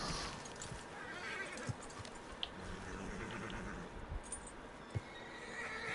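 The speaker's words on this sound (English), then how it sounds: "Oh, we'll have to calm our horse first." A horse in Red Dead Redemption 2 whinnies and neighs near and fairly loud, with a few sharp hoof clops and drips over a steady ambient background, no talk.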